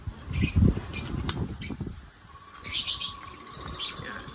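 Lovebirds in a bird loft giving several bright chirps and squeaky calls in short clusters, with soft rustling and fluttering underneath, fairly close and moderately quiet.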